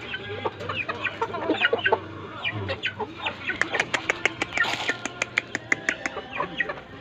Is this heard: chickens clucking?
yes